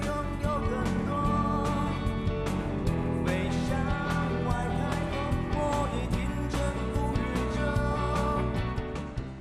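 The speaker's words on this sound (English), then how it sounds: "What you're hearing is the language of the Hakka people, set to modern music." Modern pop music sung in the Hakka language, with a dense, full band backing and a vocal line running continuously at steady loudness throughout.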